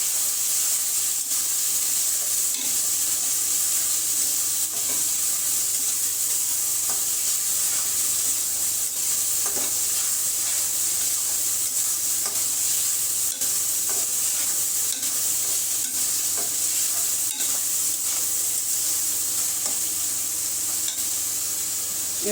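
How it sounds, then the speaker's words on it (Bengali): Spice paste frying and being stirred in a pan for a home-cooked Bengali curry, a steady loud sizzle with faint scraping stirs throughout, no voices. "মশলাটা কষানো হয়ে গেছে।"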